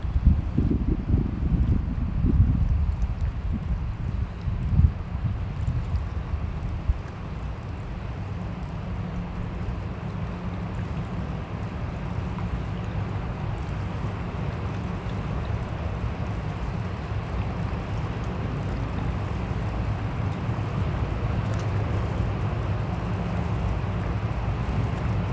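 Steady wind roars across a microphone beside a river during crappie fishing, a continuous low rumbling buffet with a few heavier gusts early on.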